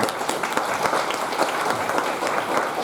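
An audience at a naadi astrology conference breaks into dense, steady applause, many hands clapping together at a fairly close, even level for the whole stretch without pause.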